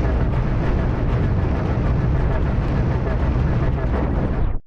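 A continuous, dense roaring barrage that holds steady and loud before cutting off abruptly, from two ion cannons firing a beam at an enemy ship's armor and shields in the space game Cosmoteer.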